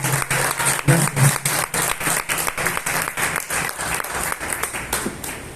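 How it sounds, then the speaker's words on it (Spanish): A church congregation at a Sunday service bursts into loud, sustained applause, many hands clapping together in a dense, lively roar that runs the whole moment. "Vamos a dar un fuerte aplauso al Señor"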